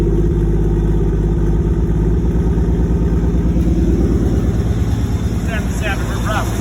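A Nissan Skyline R33 with an RB25DET engine running rough close by, a loud, uneven idling throb with irregular pulses throughout, and faint voices briefly near the end.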